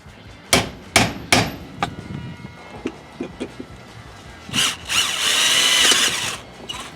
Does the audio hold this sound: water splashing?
no